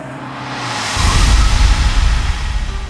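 A car pulls away with a low, rumbling engine surge that builds after a second, accompanied by a broad whooshing roar, loud and close.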